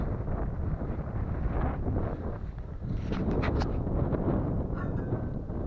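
Wind blowing outdoors around a Canway camp stove, a steady loud rumbling buffet on the microphone with gusts and a few faint clinks.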